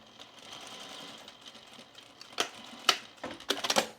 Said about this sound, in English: I'm going to sew straight up, and I'm going to back stitch right here at the top of the tooltip pocket